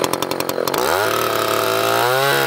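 A chainsaw idles with rapid sputtering pulses, then revs up to a loud, sustained high whine as it cuts into a red oak log, close by; a brief spoken phrase is heard.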